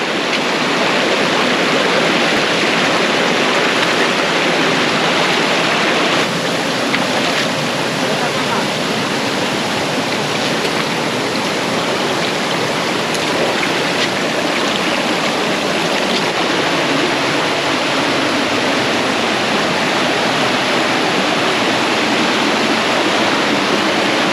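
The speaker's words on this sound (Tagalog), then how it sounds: "Narating na rin namin yung Bira Bira Falls." Bira-Bira Falls, a waterfall in Cawag, Zambales, pours in a steady, loud, broadband rush of falling water that holds even and continuous throughout, close by and with no other sounds standing out.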